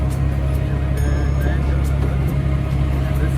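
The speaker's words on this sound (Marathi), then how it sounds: "फायनली आम्ही बसलो रिक्षामध्ये आणि आता आम्ही चाललो" Close engine drone of an auto-rickshaw on the move, a steady low hum with light rattling, and people talking over it throughout.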